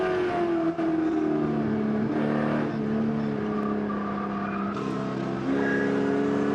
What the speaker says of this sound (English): Super Spec Cup cars also out on the racetrack.